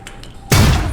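A grenade explodes in the video game Alpha Protocol, a sudden loud blast that cuts in after a few faint ticks and rumbles on heavily to the end.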